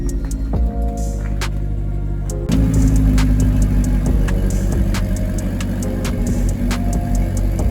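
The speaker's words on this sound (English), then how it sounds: "it is amazing to hear this car start up when it's cold" A powerful supercar engine cranks and fires from cold, then settles into a loud, lumpy high idle with sharp ticks and a deep rumble.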